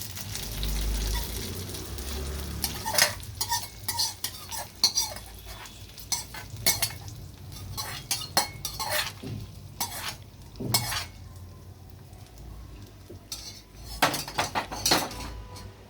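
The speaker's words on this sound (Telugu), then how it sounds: "ఇదంతా కూడా మొత్తం అంతా కలిసే విధంగా చక్కగా కలుపుకోవాలండి." Curd rice being stirred and mixed in a pot after the tempered curd is added, with repeated scraping and clinking of a spoon against metal, irregular and close, no speech.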